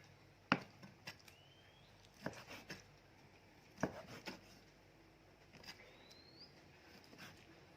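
Knife chopping food on a board: a few sharp isolated strikes, then short clustered chops with pauses between, fairly quiet and close, no talking.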